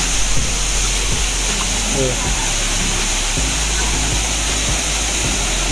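The Susarondi waterfall at Nivoshi near Guhagar roars as a loud, steady rush of falling water. People talk briefly over the constant torrent.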